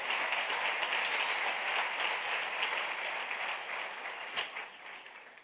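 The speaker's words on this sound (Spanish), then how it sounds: "dale un aplauso al Rey bendito" Steady applause from a church congregation during a Saturday Christmas-eve worship service, a dense wash of many hands clapping together that holds evenly and then tapers off slightly toward the end.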